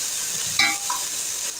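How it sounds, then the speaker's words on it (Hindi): Ginger garlic paste frying in a pot, a close, bright sizzle with a brief spoon scrape and clink partway through, short and uninterrupted by speech. "अब इसमें मैं शामिल कर रही हूँ 2 चम्मच भर के लहसुन अदरक पिसा हुआ। इसको थोड़ा सा भूनेंगे।"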